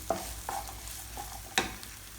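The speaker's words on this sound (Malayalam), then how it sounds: "ഇതിലേക്ക് ഒരു വലിയ സവാള ചെറുതായിട്ട് അരിഞ്ഞത് ചേർത്ത് കൊടുക്കാം" Finely chopped large onion hitting hot oil in a pan for prawn roast, with a soft steady sizzle and several sharp scraping stirs of a spoon spaced across the moment, no voices.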